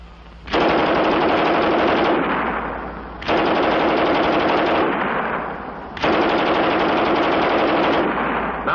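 A German MG 34 machine gun fires three long, loud bursts of rapid automatic fire, each lasting about two seconds, with short pauses and ringing echo between them.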